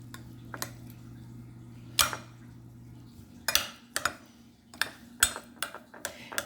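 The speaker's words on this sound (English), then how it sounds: "And all you gotta do with them eggs, just mash them up." Eggs being mashed in a bowl for loaded mashed potatoes, with a series of sharp, separate clinks and taps of utensil on dish over a faint steady hum, loud strikes spaced irregularly.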